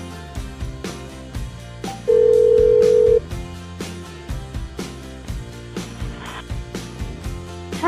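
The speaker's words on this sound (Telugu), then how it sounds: "సో వీడియో కాల్ చేస్తున్నాను." Kids' smartwatch ringing for an outgoing video call, a repeating electronic ring tone that plays loud and steady, with a brief sustained beep partway through.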